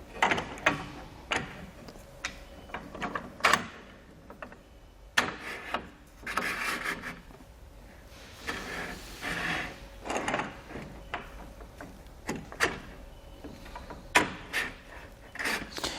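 A rail track slides along a Yakima LockNLoad platform, with repeated rubbing scrapes, clacks and metallic knocks of close-up hardware being shifted into place, spaced irregularly.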